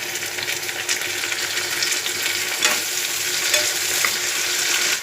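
Onions fry in a pan while being stirred, giving a steady bright sizzle with occasional scraping from the stirring, close and continuous.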